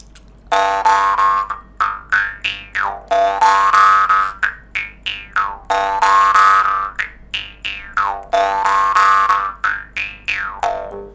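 A jaw harp held against the lips twangs in a repeating rhythmic pattern, its buzzing tone sweeping up and down in vowel-like wah shapes, close and fairly loud.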